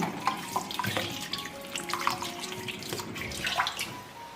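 Tap water runs steadily over fresh garlic bulbs being rinsed at a kitchen sink, with small splashes and clinks of handling, moderately close and without any talk.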